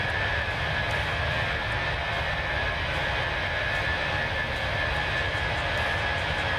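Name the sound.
jet airliner engines in a flight simulator video game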